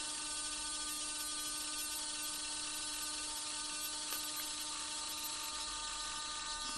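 A Blue Arrow D50011MG servo on a bench, moving under throttle control, gives a faint, continuous high whine with a brief small click partway through and no talk.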